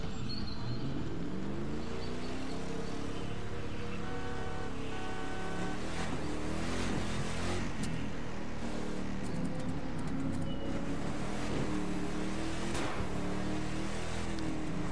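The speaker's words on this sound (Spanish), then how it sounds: "¿Oyeron los tubos de escape ahí? ¿Cómo sonó?" Ford Raptor F-150 driven in the video game The Crew 2, a steady loud engine and exhaust drone with road and wind noise running continuously, with no talk.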